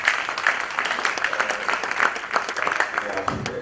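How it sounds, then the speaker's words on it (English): A conference audience applauds a tax panel steadily, a dense patter of many hands clapping at moderate loudness for a few seconds with no pause. "I think we can give a round of applause to my panelists."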